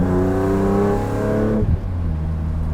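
A 2006 BMW Z4 M Roadster engine revs up hard with a rising, throaty note. Partway through, the revs drop abruptly and settle into a lower, steady drone, close and loud with no talking.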